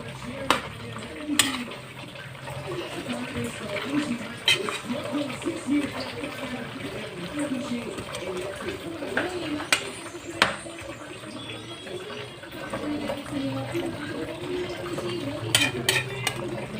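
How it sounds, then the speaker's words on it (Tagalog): A pot of Filipino chicken pochero with pechay being stirred, a spoon scraping and clinking against the pot in a steady rhythm over a low simmer, with someone talking over it. "haluin natin"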